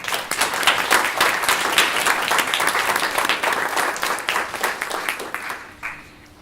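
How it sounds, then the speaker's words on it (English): Steady audience applause fills a room at the launch of a community-led housing network in Greater Manchester, dense clapping that holds firm before thinning out and fading near the end. "I just wondered if we could celebrate that for a minute and give them a round of applause"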